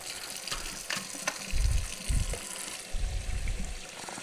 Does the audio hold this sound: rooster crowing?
no